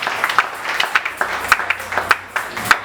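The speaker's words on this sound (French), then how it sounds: "acclamons encore très fort pour la gloire de Dieu" A church congregation applauding loudly, a dense run of sharp overlapping claps with a steady uneven rhythm, close and lively.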